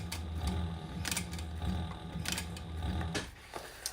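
A sewing machine backstitches through a double-sided leather piece, with uneven mechanical clacks and rattles running close and steady.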